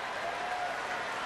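Baseball crowd applauding in the stands during a Phillies at Astros game, a dense, steady wash of clapping from many spectators with no break.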